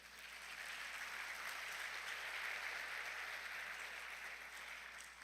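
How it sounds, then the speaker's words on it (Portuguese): A church congregation claps during a sermon, soft and distant-sounding but steady, a continuous even patter of many hands over a low background hum, with no speech. "Dê um aplauso aí."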